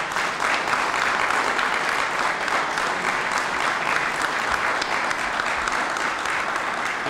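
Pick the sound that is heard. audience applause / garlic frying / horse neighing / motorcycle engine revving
audience applause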